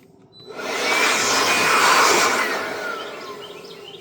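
A battery-powered leaf blower whirs up from quiet to a steady airy roar in a woodworking shop, holds for a couple of seconds, then tapers off slightly, loud and alone.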